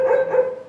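Injured dog lying under a tree gives a short, loud whining yelp, a single close tonal cry with no talk over it.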